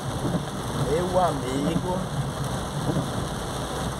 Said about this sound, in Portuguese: é chuva, hein? Chuva pra valer.